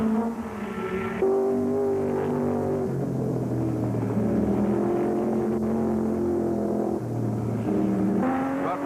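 Race cars at the 1964 Sebring 12 Hours streak through the S's toward the hairpin, engines roaring and revving as they pass, rising and falling in pitch with gear changes, loud and close throughout with no talk.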